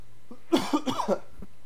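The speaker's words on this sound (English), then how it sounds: "I need to cough" A few quick coughs in a short burst, close and fairly loud, with no talking around them.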